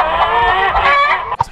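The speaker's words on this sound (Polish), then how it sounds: "To jest kurczak." A chicken in the video game League of Legends clucks and squawks loudly and steadily in a close, continuous run, ending with a short thump.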